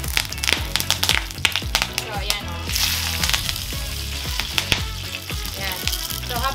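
Tortang talong, an eggplant omelette, frying in hot oil with loud, crackling sizzle and sharp popping splatters, bursts of spitting rising and falling over a continuous fry.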